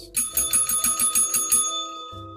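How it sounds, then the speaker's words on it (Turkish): A school bell rings electrically in rapid, steady bursts for about a second and a half, loud and close, then stops abruptly. "Zil çaldı gerçi."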